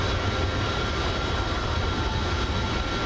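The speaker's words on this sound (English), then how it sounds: "Sounds good, the airplane, that's for sure." Steady airplane engine drone from Microsoft Flight Simulator 2024, a continuous broadband roar with no breaks and no talk, on a flight from KJFK to KMIA.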